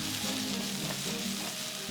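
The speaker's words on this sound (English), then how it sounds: "We're gonna add all our veggies, onions, carrots, and celery." Onions, carrots and celery sizzle steadily in a pot over high heat, a close, even crackle and hiss with no talking.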